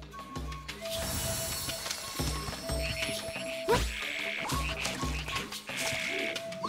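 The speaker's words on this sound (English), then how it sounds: "Singing frog." A singing frog enemy in Zelda: Echoes of Wisdom croaks in a bouncy repeating rhythm over game music, with regular low pulses and bright tonal notes throughout.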